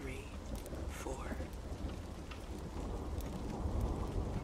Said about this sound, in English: Let the sound of the rain and the fire crackling in the fireplace take you to a pace of rest